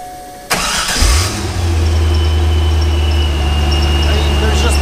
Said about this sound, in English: So let's start this car up for you